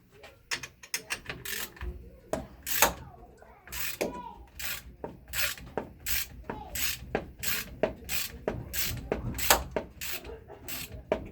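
Rhythmic ratcheting and metallic rubbing strokes as a bolt is tightened while reassembling a Kawasaki KE102 motorcycle engine, a close series of short, sharp clicks at an even pace.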